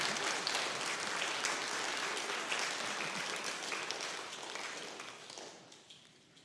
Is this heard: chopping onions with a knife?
no